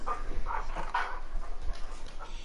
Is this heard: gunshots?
no